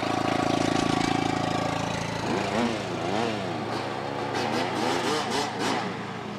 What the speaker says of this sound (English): Here we've got, even have souped up lawn tractors.